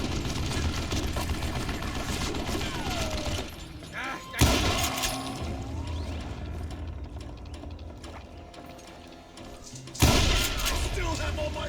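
Gunfire in the Western shooter Call of Juarez: Gunslinger: sharp shots and mechanical clicks crack over a busy game soundscape, with two loud bursts standing out, while someone talks.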